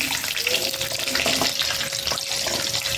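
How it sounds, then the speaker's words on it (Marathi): Garlic sizzles and crackles steadily in hot oil for a traditional village-style sour chukka leaf dish, with a constant loud hiss filling the pan and a faint tonal hum running beneath it. "आता आपण टाकलेले आहे लसूण याच्यामध्ये आपल्याला हे करून घ्यायचं तळून"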